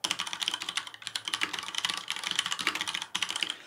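Typing on a stock Leopold FC750R tenkeyless mechanical keyboard with brown switches: quick, close clacks in an uneven rhythm with a brief pause, no voices.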